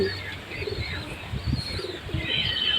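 Teddy pigeons held for sale coo in low, soft murmurs against a busy, noisy background, the calls steady and fairly close throughout.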